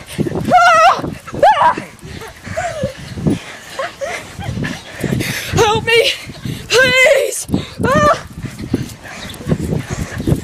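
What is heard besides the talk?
dog barking while chasing someone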